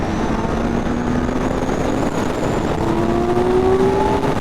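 A 2025 Kawasaki Z900 motorcycle engine revving up loudly at close range, a continuous raw roar with rising and falling pitch as the throttle is cranked, no voices.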